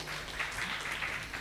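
Applause from a university campus audience at a legal outreach talk, a dense, steady wash of clapping at middling distance that holds through the whole moment.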